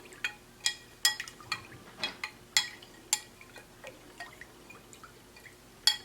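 Water being stirred with dish soap in a bowl, giving a run of small, irregular drips and light splashes with faint glassy clinks, close and fairly quiet.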